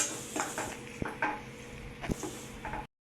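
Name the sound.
onion frying in a pan with turmeric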